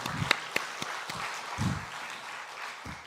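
A church congregation claps in praise to the Lord, with a few distinct claps and soft, sparse applause in a room, quiet and uneven rather than a full ovation.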